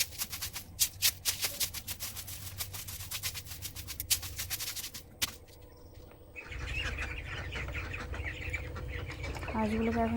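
Domestic ducks being let out of their shelter in a rural yard, with quacking and bird calls mixed with scattered clatter and footsteps, growing busier toward the end.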